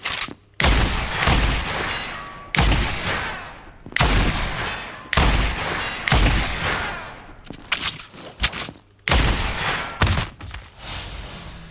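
Loud gunfire rings out in a third person shooter game, about six separate bursts of shots, each lasting a second or two with gaps of silence between, the later ones choppier and more clustered.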